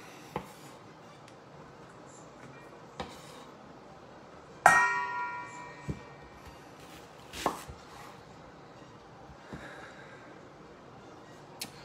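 A knife chops yellow onions on a board for chili con carne. A few sparse, sharp knocks are spread across the clip, and one louder ringing clang stands out partway through, with no talking.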